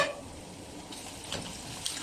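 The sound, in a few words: onions frying and being stirred in a pan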